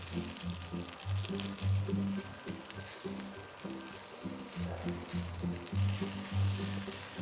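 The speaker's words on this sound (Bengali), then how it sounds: "এই পনির রান্নার গ্রেভির মধ্যে এটা আমি সুন্দর করে ভেজে নেব চাউলটা" Rice frying in paneer gravy in a pot gives a steady close sizzle, with rhythmic stirring scrapes repeating throughout.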